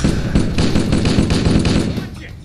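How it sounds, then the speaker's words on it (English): Rapid automatic fire from the battery rifle in Halo: Cursed Edition campaign gameplay, loud and continuous bursts of shots with a heavy low rumble, densely packed over a couple of seconds. "Swap out for the battery rifle."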